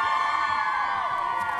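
A crowd cheers and whoops at a party on the Coppell town plaza, a steady dense roar of many voices with shouts rising throughout.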